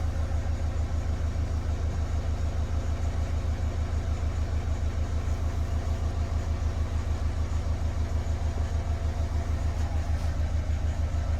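A 2007 Renault Kangoo with the K9K diesel engine, idling close by with a steady rhythmic low throb and an even chug that never changes pace, no talk over it.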